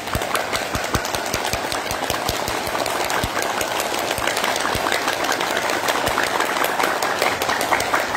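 Participants in a yoga session clap their hands as the final hand exercise, a rapid, steady, dense run of claps throughout.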